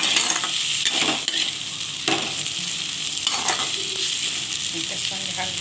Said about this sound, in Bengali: দেখুন এবার আমি চিংড়ি মাছটা এই পেঁয়াজটার সঙ্গে আমি একটু হালকা ভেজে নেব।